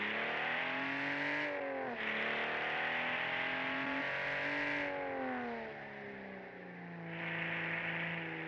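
A racing-game car engine on a 1958-themed hillclimb course holds a steady, loud throttle, its pitch rising and falling through gear changes and corners, with no talk over it.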